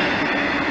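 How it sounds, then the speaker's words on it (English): Two BNSF freight trains meeting at a milepost, a steady loud rumbling roar of rolling railcars close by, with no voices. "Two BNSF trains meet here at milepost"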